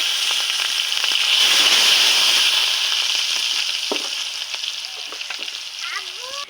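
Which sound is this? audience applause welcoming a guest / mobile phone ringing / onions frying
onions frying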